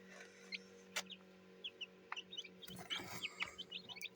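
Newly hatched chicks give faint, scattered high peeps and short chirps, some overlapping, against a low steady hum in a quiet indoor space.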